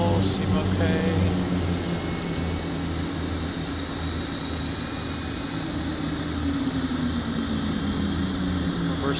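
Steady, continuous drone of ATR 72-600 turboprop engines in Microsoft Flight Simulator 2024, a loud low hum with tonal bands and a faint rising whine, unbroken throughout with no talking.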